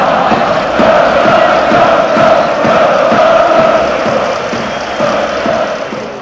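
Red Star Belgrade football supporters fill a Belgrade stadium with a steady, loud roar of crowd noise and massed chanting that holds throughout without letup.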